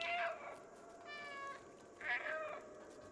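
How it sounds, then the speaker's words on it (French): The cat in the video game Stray meows three times, raspy and close, with short gaps between the calls over quiet background. "Appuyez sur B pour miauler."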